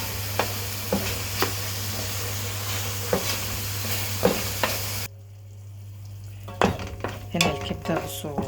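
Liver sizzles loudly in a hot pan with a steady frying hiss and occasional utensil clicks as it is flipped. Midway the sizzle drops off, leaving a quieter stretch of scraping and clatter, with no talking.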